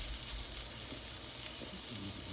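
Meat sizzles in a hot pan for a Philly cheesesteak, a close, continuous crackling fry with a few faint stirring sounds near the end and no talking.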